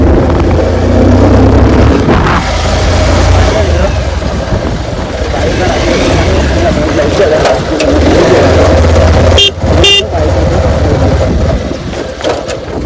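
A motorcycle riding along a road, its engine droning loud and close throughout with a rumbling low hum and rushing wind, while voices are faintly heard over it.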